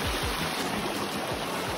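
Shallow river water flows steadily on a waterfall hike in Choiseul, a continuous broadband rush with occasional low thuds, close and alone without talk.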